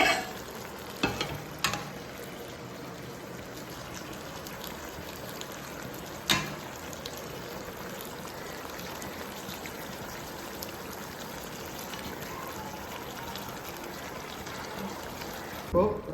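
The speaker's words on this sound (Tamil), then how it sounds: "இப்போ இந்த டைமில் நம்ம ரெடி பண்ணி வச்சிருக்க ஒயிட் சாஸை கொஞ்சமாக இதில் சேர்த்துக்கலாம்." Chicken frying in a pan with white sauce being added, giving a steady low sizzle and bubbling throughout with a few brief clinks and stirring knocks, heard close and alone.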